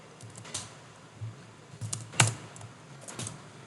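Keys clicking on a computer keyboard while code is typed, with a handful of sparse, irregular taps and one sharper strike near the middle, close and fairly quiet.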